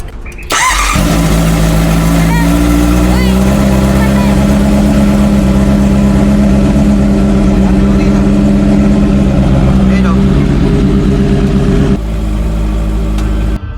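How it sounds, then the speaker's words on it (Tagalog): A Honda CB650R motorcycle during radiator coolant replacement and air bleeding cranks and fires within the first second, then settles into a loud, steady, close idle with a brief blip near the end, while a voice speaks over it. "I-start ko na yung makina."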